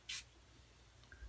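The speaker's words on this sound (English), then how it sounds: "I'm actually just going to spray it into my hands" Aftershave is pumped from a frosted glass spray bottle into the hands: one short, soft burst of spray, close and fairly faint, followed by quiet rustling.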